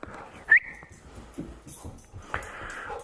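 A dog gives a sharp yip and then high, excited whimpers and snorty breaths, close up and fairly faint, with soft movement noises between the sounds.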